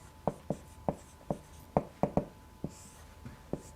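Chalk tapping and scratching on a board during a math lecture, a dozen crisp, close, evenly spaced clicks of short strokes, with no talking.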